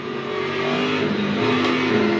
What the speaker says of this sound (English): It revs up through the gears faster than the Aston Martin.